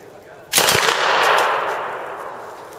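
A single sharp burst of submachine gun fire cracks out loudly at an outdoor Knob Creek machine gun shoot, then a long echoing rumble trails off across the range, with no voices.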